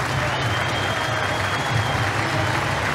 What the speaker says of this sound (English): Applause around the ground in support